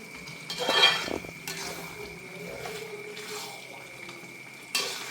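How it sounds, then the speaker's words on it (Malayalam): A spoon scrapes and clinks in a pan as fenugreek and asafoetida are stirred into a pickle, with a louder burst of stirring near the start, softer movement after, and another clatter at the end. "ഉലുവ ഇട്ട് ഉലുവ ഓടിച്ചിട്ട് കായപ്പൊടിയും ഇട്ട് ഒന്ന് ഇളക്കി കൂട്ടി"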